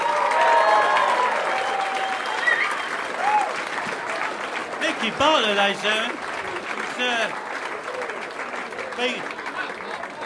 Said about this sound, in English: Another round of applause for Micky Bartlett, ladies and gentlemen.